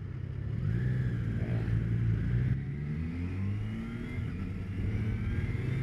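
A Triumph Tiger Sport 660 motorcycle accelerating, its steady engine note climbing in pitch through rising harmonics over a constant rumble, close and fairly loud with no talk.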